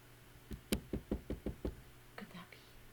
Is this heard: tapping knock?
yes